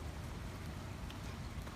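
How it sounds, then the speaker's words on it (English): Light rain easing off in Mid-City New Orleans the day after major flooding: a soft, even patter of drops on surfaces, continuous and fairly faint, with no talking. "Now the rain is kind of tapering off,"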